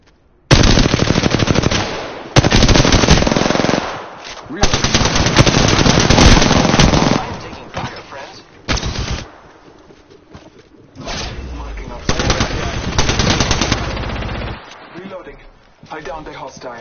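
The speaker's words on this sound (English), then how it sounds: "I'm taking fire." Automatic machine gun fire in a video game comes in loud, rapid bursts separated by short gaps, with a player's voice speaking over the shooting.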